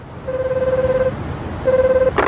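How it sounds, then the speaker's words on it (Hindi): Electronic telephone tones in a cartoon: two long, steady beeps separated by a short pause, with a faint click at the end, over a soft low background hum, with no voices over them. "चलो उन्हें जल्दी से कॉल करते हैं।"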